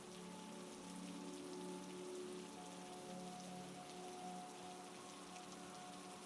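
Steady rain pattering on surfaces in a cozy winter setting, a dense and even hiss of drops, soft and continuous with a faint low hum beneath, no voices.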